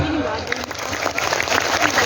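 Audience applause at an Indonesian sholawat religious gathering, a steady dense patter of many hands with a voice speaking over it, fairly loud throughout.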